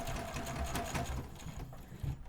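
A sewing machine runs a short basting stitch along an inseam pocket on a pair of pants, a fast steady mechanical whirring that is close and continuous, then slows and stops near the end.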